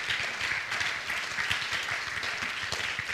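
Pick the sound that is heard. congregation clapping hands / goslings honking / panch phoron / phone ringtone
congregation clapping hands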